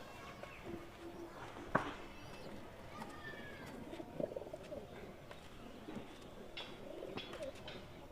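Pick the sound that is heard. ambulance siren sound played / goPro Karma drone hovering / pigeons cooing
pigeons cooing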